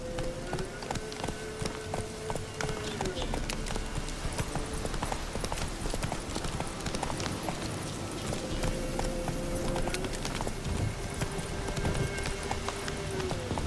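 Roach, Geralt's horse in The Witcher 3, gallops in steady rapid hoofbeats under a continuous game soundscape, with occasional faint tonal music and a low background bed.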